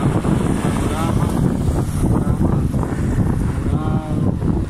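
Wind on a gusty day sweeps through the branches of a jacaranda tree in full purple bloom, a steady, loud, blustery rush with microphone buffeting and no pause throughout.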